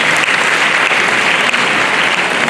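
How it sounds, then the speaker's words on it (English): Graduating students at a graduation ceremony break into steady, dense applause from a large crowd, loud and continuous throughout with no pauses. "Yes, please clap for yourself."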